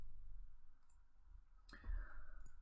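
Calculator keys pressed while entering a trigonometry calculation, giving a couple of sharp, close plastic clicks over a low steady background hum.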